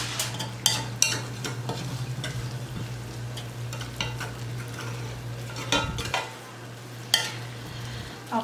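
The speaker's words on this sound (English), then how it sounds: "I just take all the rice and I just scoop it into a little mountain" A utensil scrapes and scoops cooked rice into a mound in a pan on low-to-medium stove heat, with sharp metallic clinks and scrapes standing out over a soft steady sizzle and a low hum.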